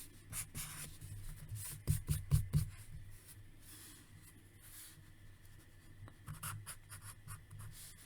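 Pencil drawing on paper, a quiet scratchy scribble with a brief burst of quick back-and-forth strokes, then softer intermittent shading.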